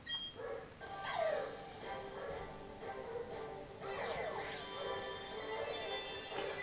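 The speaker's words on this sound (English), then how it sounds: "Neighbor dog going fucking mental." A neighbor's dog barks and yips in the distance, with repeated sharp calls partly masked under game music and a voice.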